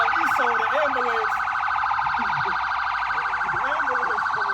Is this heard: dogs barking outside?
no